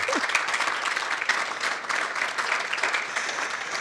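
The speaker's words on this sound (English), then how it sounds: "Please give them a round of applause." Audience at an annual accountability and partners seminar bursts into steady, dense applause, sustained and fairly even throughout, a full room clapping at moderate distance.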